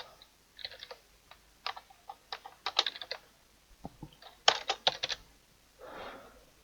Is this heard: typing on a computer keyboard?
yes